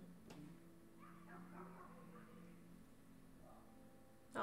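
Small dogs yip and bark outdoors at a distance, a few faint bursts of high yelping behind a quiet indoor hum.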